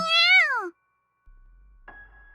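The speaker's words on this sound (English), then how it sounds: "The transceiver cat meows sweetly in reply." A small black kitten in the video game TOTONO gives one clear, rising-then-falling meow up close. After a pause comes a low hum with a faint tone.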